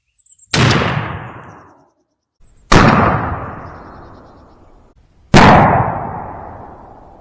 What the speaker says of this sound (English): we're going to use it to shoot these XRs in